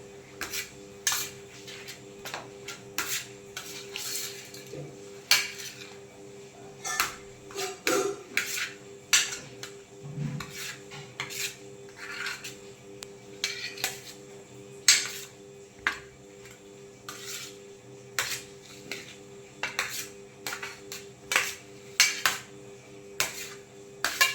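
Curry with chili powder is stirred in a pot, making repeated light scraping and clinking taps of a spoon against metal, irregular and moderately close, over a low steady hum.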